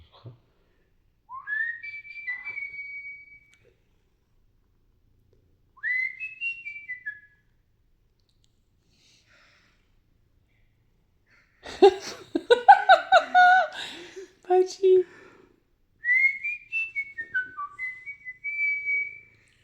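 Someone whistles short rising-and-falling tunes several times in a quiet room while a pet cat is nearby; between the whistles come a burst of laughter and a spoken word.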